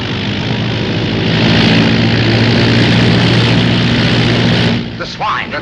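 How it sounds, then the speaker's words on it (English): A propeller plane comes in to land, its loud, steady engine drone filling most of the stretch before cutting off abruptly, after which people speak briefly. "That's the pickup plane."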